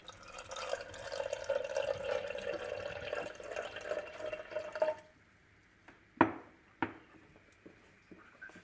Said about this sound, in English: Fill the container a quarter full with water.